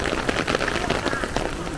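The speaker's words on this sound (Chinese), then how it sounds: "哇，下大雨喽！" Heavy rain falls at Fairy Cave on Lushan, a loud close patter with dense splashing, while a voice calls out over it.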